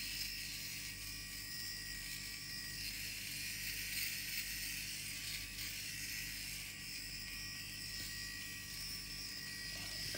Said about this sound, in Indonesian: Kita cukur dulu ya, nih.